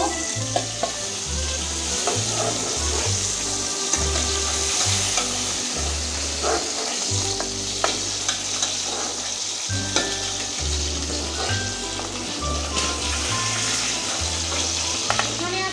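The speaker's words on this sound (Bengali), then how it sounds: "বাইন মাছ এবার আমি ভেজে নেব" Bain fish fry in hot oil with a loud, steady close-up sizzle, punctuated throughout by irregular clinks and scrapes of a utensil turning the pieces, with no talking.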